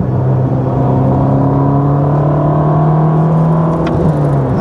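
Ferrari Roma engine rumbles steadily while driving, a constant low hum with road noise filling the cabin and no talk.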